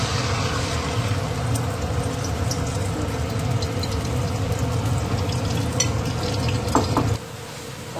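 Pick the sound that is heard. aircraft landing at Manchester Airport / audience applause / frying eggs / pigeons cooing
frying eggs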